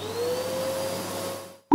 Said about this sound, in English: Mom uses the vacuum cleaner to clean the room.